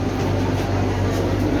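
The Vande Bharat Express pulls out of Trivandrum with a steady, loud low rumble and hum that holds evenly throughout, with no distinct clanks or horn.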